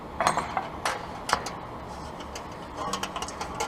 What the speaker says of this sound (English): here we have the Canton Racing oil pan